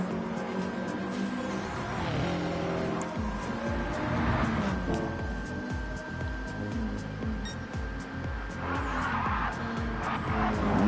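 A racing car in a video-game race at Brands Hatch drifts through a corner, tyres squealing over a droning engine that rises and falls, with commentary faintly beneath.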